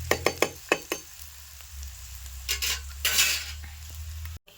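Onions frying in a pan toward golden, a low steady sizzle under a few sharp clinks of a spoon against the pan at the start, then a louder scraping stir before it cuts off.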